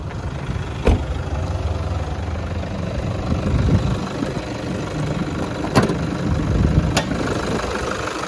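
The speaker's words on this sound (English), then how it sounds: "and then the engine bay." A 2014 Toyota Hilux engine idles with a steady rumbling hum up close in the engine bay, broken by a few sharp clicks, and no one speaks.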